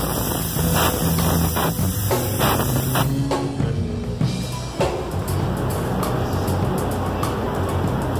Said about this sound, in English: He's about to spray that wet on these hats